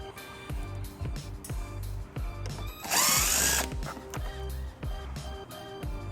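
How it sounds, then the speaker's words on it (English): A power drill with a 7/32 socket backs screws out of a side panel while a trailer hitch is fitted to a 2016 Ford Edge. A loud, whining burst of about a second sits over a steady, rhythmic mechanical thumping. "We're going to start by removing these 2 screws using a 7/32 socket."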